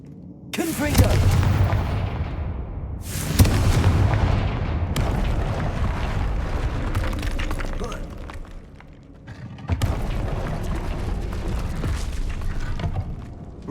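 Confringo fire spell explosions in the video game Hogwarts Legacy: several loud, booming blasts, each bursting suddenly and rumbling away over a few seconds, spaced irregularly amid continuous low battle noise.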